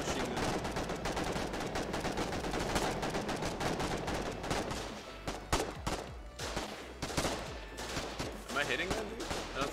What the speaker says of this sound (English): How the fuck did they get a field machine gun?